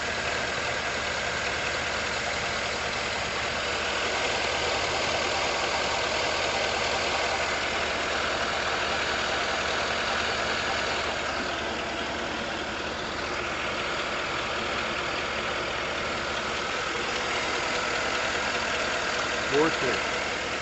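A warm 2011 Chevy 5.3L (327 cubic inch) V8 idling steadily, with a smooth, even rumble heard close and continuous, while a person talks over it.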